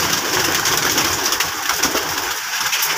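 Giribaz pigeons cooing steadily indoors in a loft, a continuous, close and fairly loud murmur of soft coos overlapping through the whole stretch with no voices.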